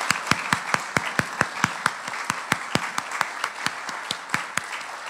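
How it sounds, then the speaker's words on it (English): A church congregation gives a round of applause during a Sunday service, a smallish group clapping in a fairly sparse, distinct rhythm of separate claps, moderately loud and close, with no talk over it. "round of applause."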